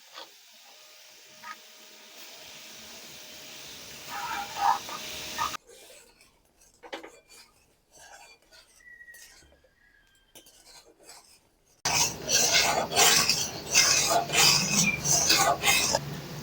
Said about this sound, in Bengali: দুধের সাথে ক্যারামেলটা মিশিয়ে নেড়ে চেড়ে এবারে জাল দিতে থাকবো।